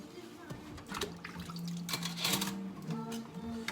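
Dishes are washed in a sink full of water: quiet sloshing, splashing and light clinking of crockery, with a few louder bursts of water movement partway through.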